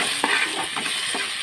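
Curry being stirred in a pan after turmeric, garlic and ginger go in, giving a steady faint sizzle with a few soft scraping strokes, no voices.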